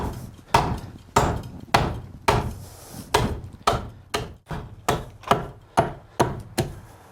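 A handsaw cuts through wood with about a dozen evenly spaced, rasping push strokes. The strokes are close and rhythmic, and no talk is heard over them.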